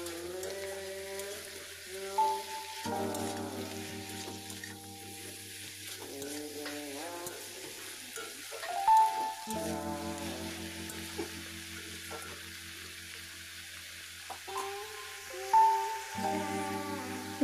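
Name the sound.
cabbage being sautéed and stirred in a pan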